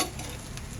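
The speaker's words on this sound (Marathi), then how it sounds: "आपण छान परतून घेऊया" Basmati rice with cashews and raisins stirred and sautéed in a pan for navratan pulao, giving a brief, steady close sizzle with scraping stir sounds and no talking.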